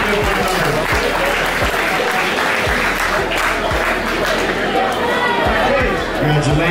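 A crowd at the Colorado Rumble in the Rockies competition applauds a winner with loud, sustained clapping, chatter and a few voices mixed in.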